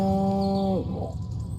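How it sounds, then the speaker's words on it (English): A cow in the game Destroy All Humans gives a single loud, sustained moo that drops off abruptly, heard close and clear. "Again with the moo?"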